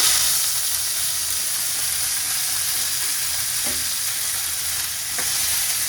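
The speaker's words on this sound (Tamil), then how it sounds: "இது வதங்கிக்கிட்டு இருக்கு இல்லைங்க." Steady sizzling of onions frying in oil, a continuous bright hiss with a couple of faint clinks of a utensil stirring.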